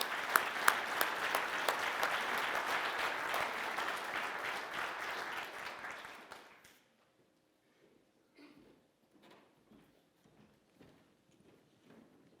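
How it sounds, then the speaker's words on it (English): Audience at a Rotary gathering applauds loudly for several seconds, a dense close clatter of many hands that fades out, followed by a few faint scattered claps and stage noises. "please give a big round of Rotary applause"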